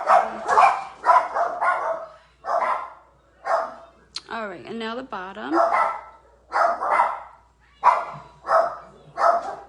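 Household dogs barking in the background, a short burst of yelping barks heard briefly between stretches of someone talking close by.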